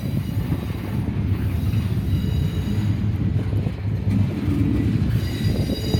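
A train rolls through the junction at Deshler with a low, steady rumble, rhythmic wheel clatter and faint wheel squeal, close and continuous with no voices.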